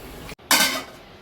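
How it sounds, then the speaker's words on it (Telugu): A cooking pot set down on a stove: a short muffled knock and a moment of silence, then a bright metallic scrape and clatter that fades out, close and fairly loud. "మనం ఇప్పుడైతే గిన్నె పెట్టేసాము."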